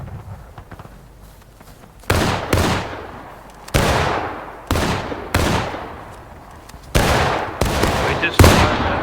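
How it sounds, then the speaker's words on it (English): Civil War reenactors fire muskets over people's heads, producing a ragged series of about eight loud, sharp reports spaced unevenly across several seconds, each ringing out and trailing off, with faint voices in between. "We just fired over the head."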